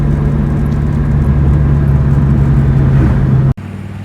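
An SVT Terminator Cobra, tuned to about 750 wheel horsepower on 93 octane, cruises in third gear with a steady, loud mid-pitched engine drone and low rumble, cutting off abruptly near the end before a quieter idle-like hum resumes.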